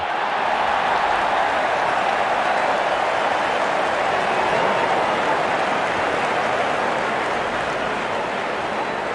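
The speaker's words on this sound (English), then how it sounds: "Openers walking in and the crowd cheering in anticipation." In a Real Cricket video game match, a stadium crowd cheers as the openers walk in, giving a steady, dense roar of applause and noise that stays loud and unbroken throughout.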